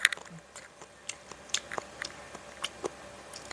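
Close, quiet crunching and snapping bites of crisp food, irregular crackles scattered over a soft background hiss.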